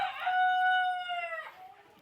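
A Sonali rooster gives one loud, close crow that holds a long drawn-out note and then trails off, heard alone.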